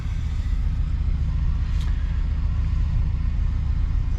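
A car drives into a repair workshop, its engine a steady, close, low rumble heard alone.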